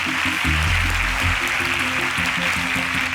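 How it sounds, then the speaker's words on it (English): An audience at a televised agricultural science quiz contest gives a continuous round of applause, a dense, even wash of clapping over a faint tonal background. "Can we have a round of applause for them, please?"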